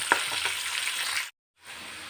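Masala for munkayi curry fries in a pan with a steady, close hiss and sizzle and a small tap near the start, cutting out completely for a moment before the sizzle resumes; no voices.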